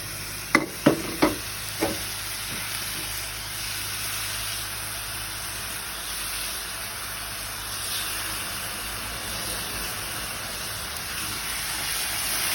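Holy basil leaves stir-fried in a hot pan, a few sharp utensil knocks at the start and then a loud, steady sizzling hiss that continues throughout.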